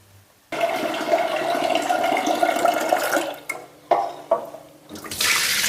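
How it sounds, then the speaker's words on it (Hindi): Water pours steadily into a metal pressure cooker of rice for a few seconds, a rushing splashing stream that stops, followed by a couple of clanks and more running water. "ये कुकर में डाल दिया पानी"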